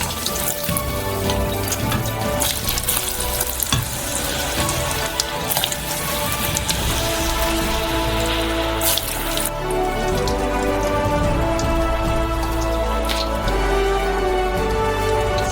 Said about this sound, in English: Preheat the fryer to 170 degrees, and throw in the potatoes.